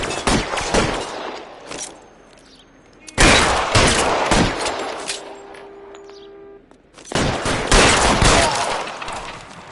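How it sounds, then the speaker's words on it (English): Sustained automatic gunfire laying down suppressing fire in a PS4 shooter, dense rapid bursts in several long volleys separated by brief quieter gaps, loud and close. "I'll lay down some suppressor fire."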